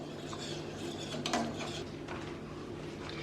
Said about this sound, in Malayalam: അതിനുശേഷം നന്നായിട്ടൊന്ന് ഇളക്കി കൊടുക്കാം.